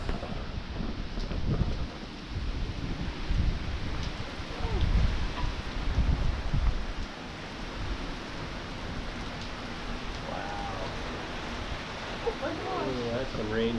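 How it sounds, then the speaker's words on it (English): Heavy rain from Hurricane Beryl in Grenada roars down in a continuous hiss with gusts of wind buffeting the microphone, while people nearby talk over the downpour. "Look at that rain."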